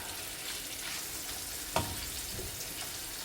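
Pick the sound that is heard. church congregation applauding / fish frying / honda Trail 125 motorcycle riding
fish frying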